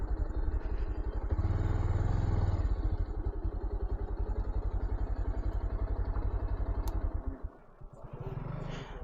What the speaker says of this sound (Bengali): আর এইখানে আমরা বাইক পার্কিং করব।